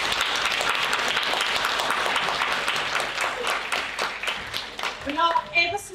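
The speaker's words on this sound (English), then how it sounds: "Okay, round of applause for Wendy." Applause from an audience at a student biomedical science congress, dense steady clapping throughout that thins into scattered individual claps near the end.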